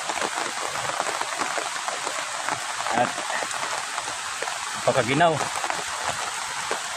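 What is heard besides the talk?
heavy rain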